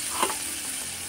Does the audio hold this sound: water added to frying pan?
yes